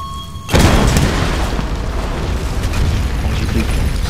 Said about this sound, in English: Don't look at the explosion, you don't have to.